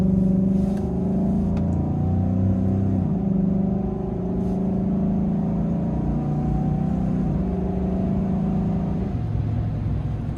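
A 2019 Chevrolet Silverado pickup accelerates on the highway, its engine droning loudly with low harmonic tones that step up and shift as it revs through gears over steady road rumble.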